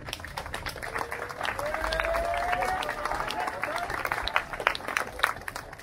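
A crowd gathered for a bike rideout on a Throne 27Five bicycle claps and cheers outdoors, dense applause running the whole stretch with chatter, whistles and a rising whistle-like tone mixed in.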